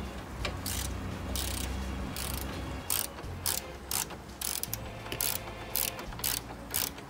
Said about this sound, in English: Okay, I'm taking out the last two screws.